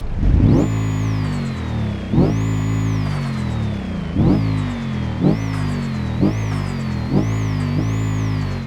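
A loud 2.5-liter turbocharged boxer engine revs repeatedly, rising and falling in about six surges with a whining pitch sweep on each, close up and without voices.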